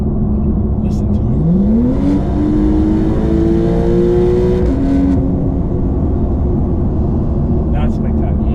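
A Porsche 992.2 Carrera with a full aftermarket exhaust revs up sharply, holds a high whining note for a few seconds, then drops back to a low rumbling idle, loud and close.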